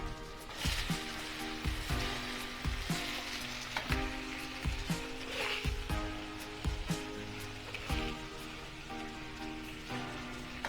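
Onions and tomatoes sizzle steadily while being sautéed in a pan for tomato chutney, a close, continuous frying crackle broken by occasional stirring knocks, with no voices.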